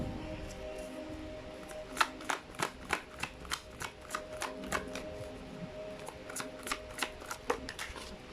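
Tarot cards being shuffled, a run of crisp snapping riffles and flicks in quick irregular succession over a low background hum, close and moderate in level.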